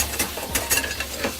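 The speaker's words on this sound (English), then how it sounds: "first thing we do is cook the fat." Pork fat cooking in a pan for adobo, a soft sizzle with scattered stirring clatters and small pops over 1.5 seconds, no voices.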